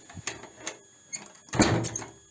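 An old wooden door, in restoration-grade condition in a village house, swings shut with a solid thump and a short rattle, preceded by a few faint clicks and creaks from the handle in a quiet room.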